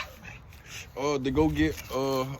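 A dog gives short, whiny yelps in a couple of close bursts, with a person's voice alongside.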